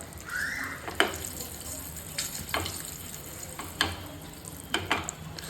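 Roasted green chilies fry with ajwain and hing in a pan for Kolhapuri thecha, sizzling steadily as a spoon stirs them, with several sharp scrapes and clacks against the pan at irregular intervals. No one speaks.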